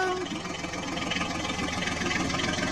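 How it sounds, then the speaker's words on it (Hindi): A tractor engine runs while the vehicle reverses, giving a steady, rough mid-to-low rumble with a fast knocking pulse throughout, moderately loud and unbroken. "चलो ड्राइवर, बैक कर लो ट्रैक्टर गाड़ी को"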